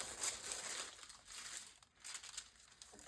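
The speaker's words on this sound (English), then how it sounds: "I just cut hunks off of my papers." Tissue paper being cut and handled gives soft, close crinkling and rustling in quick, irregular bursts, faint overall.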